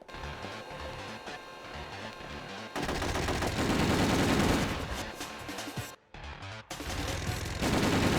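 Sustained rapid Gatling gun fire from a Ghost in the Shell PSP game rattles in loud, dense bursts, with one brief pause before the shooting resumes.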